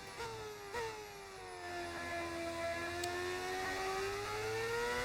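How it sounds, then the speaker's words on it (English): A Formula 1 car engine in a racing video game, voiced by an engine sound-pack mod, whines steadily at high revs and its tone climbs and falls through gear changes, with no talk over it. "So we're using an engine sound pack mod."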